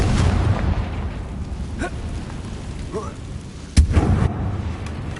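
Blasting spell explosion in the Hogwarts Legacy game, a sharp loud burst near the end following a stretch of rumbling ambience, with a spoken voice earlier in the clip.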